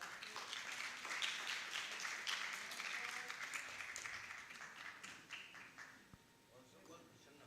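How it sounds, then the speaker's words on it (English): Sustained audience applause at a conference closing ceremony, a steady distant roll of many hands that tapers slightly near the end, with a voice speaking over it. "Great round of applause, please."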